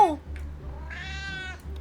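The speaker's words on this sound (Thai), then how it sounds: "งั้นเราไปตามหาเสียงแมวดีไหม" A cartoonish cat meows in the video game Sakura School Simulator: one clear, drawn-out mewing cry in the middle, preceded by a brief squeak, over a low steady background hum.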